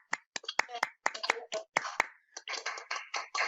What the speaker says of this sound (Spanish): terminemos con un aplauso para todos